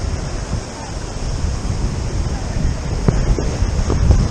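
Sea waves wash onto a shore on a windy day, a steady loud roar of surf with rushing wind buffeting the microphone.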